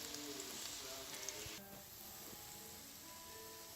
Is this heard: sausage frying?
yes